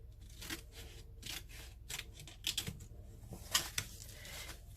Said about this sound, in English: I am cutting the corner up to there